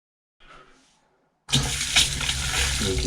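Water gushes from a bathroom tap in a house as air is purged from freshly charged plumbing, starting abruptly after near silence and continuing as a steady, loud, sputtering rush with occasional surges.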